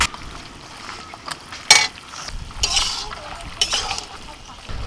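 Country chicken pieces are mixed by hand in a bowl with turmeric, salt and mustard oil, producing close, wet squelching and stirring sounds in uneven bursts with occasional light clinks.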